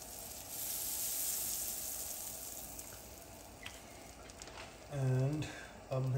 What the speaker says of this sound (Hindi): I am going to use my griller. इसमें I am just going to apply some butter